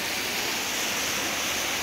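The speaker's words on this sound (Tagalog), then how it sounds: "Here in Khao Chon Falls, waterfall." Khao Chon Falls, a waterfall in Suan Phueng, pours with a steady, dense rushing roar heard up close, unbroken and without voices.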